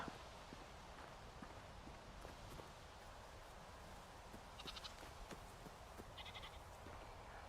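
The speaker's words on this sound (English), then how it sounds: "Couple of goats." Goats in the video game Rising World give a couple of faint, short bleats over quiet outdoor ambience, with soft footsteps plodding along underneath.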